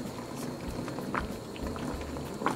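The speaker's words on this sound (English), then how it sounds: "That's the little hole and there's bubbles coming out." Water bubbles and pops from a small hole in a Japanese kitchen egg-cooking gadget, a steady simmering hiss with scattered sharper pops, close and continuous.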